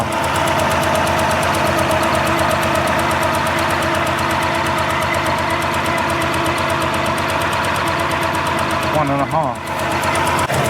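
A Mk1 Ford Escort ST170 engine idles after throttle body balancing, with a steady, smooth, close-up drone that holds evenly throughout and dips only briefly near the end.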